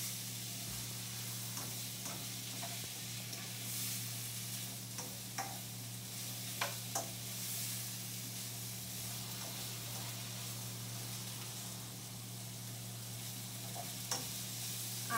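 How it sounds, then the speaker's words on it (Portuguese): Bacon, onion and rice fry in a pan for risotto, a steady close sizzle under occasional soft scrapes and clicks of stirring throughout. "E aí a gente já começa a colocar o arroz e dar seguimento ao nosso risoto."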